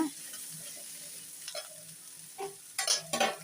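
Onion and brinjal sautéing in a pan for a Karaikudi-style brinjal podi poriyal: soft scraping stirs and a low sizzle, rising to a few louder clattering strokes near the end.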